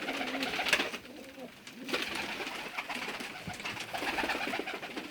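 Pigeons coo repeatedly in soft, throaty rolling calls, close by and overlapping, with light rustling in the background.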